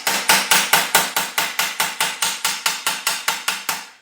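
Hammer striking a metal car cowl panel held over a dolly during bodywork repair on an HQ GTS coupe, about seventeen sharp, evenly spaced ringing blows in a quick steady rhythm, loud and close.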